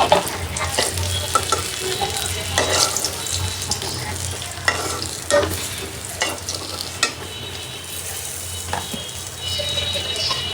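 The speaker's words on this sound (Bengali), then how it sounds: "মাছ কিন্তু ভাজা ভাজা হয়ে গেছে একদম কড়া করে" Pieces of katla fish fry crisp in a pan of hot oil, giving a loud, steady sizzle broken by occasional stirring scrapes, with no talking.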